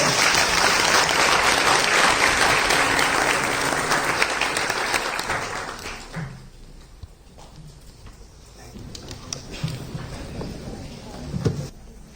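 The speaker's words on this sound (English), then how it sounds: "please give him a huge round of applause" An audience at a university guest lecture breaks into loud, dense applause that holds for several seconds, then thins out and fades to scattered claps.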